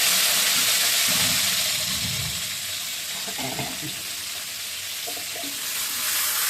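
A fish head fries in hot oil with fenugreek seeds, a bright continuous sizzle close up, while someone talks softly over it.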